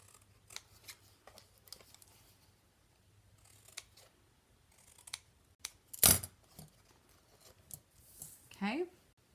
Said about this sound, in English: So we're going to cut up these score lines and miter